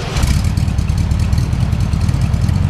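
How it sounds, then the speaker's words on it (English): A 1971 VW Beetle engine runs at a rough, loud idle after starting, a close, continuous low chugging clatter with a slightly uneven beat from a missing cylinder. "So let me start up this engine"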